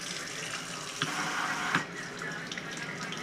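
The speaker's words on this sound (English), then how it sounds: "I'm gonna pull down the water here because I don't feel like making a huge mess" Water sprays from a pulled-down faucet sprayer nozzle into a sink, a steady hissing rush with a couple of brief splashy bursts, heard alone at moderate volume.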